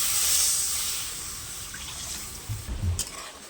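Water is poured into a cooking spice mixture of turmeric and red chilli powder in a pan, a soft hiss and liquid splash that swells briefly with gurgling bursts near the end, fairly quiet.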